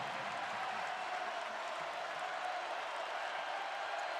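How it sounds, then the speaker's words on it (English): A college basketball arena crowd at a Michigan versus Cincinnati men's game roars and applauds steadily, a dense, loud wash of cheering with no pause. "Crowd loving the effort and the comeback from the Wolverines."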